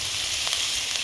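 Grated coconut sizzles steadily in hot oil during a tempering for jeera-pepper rice, a dense continuous frying hiss held close and alone at an even level.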